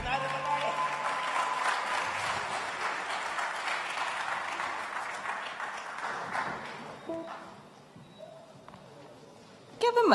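Audience applause at a lecture hall event, a dense steady wash of clapping for about seven seconds that fades out, followed by quieter room sounds and a brief loud burst at the very end.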